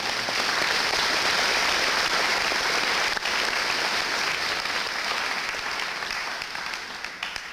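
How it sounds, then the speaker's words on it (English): Steady, loud applause from an indoor crowd at a secondary school graduation ceremony, continuous clapping that fades slightly toward the end. "I want you to give each other a round of applause because you've attained this as a group"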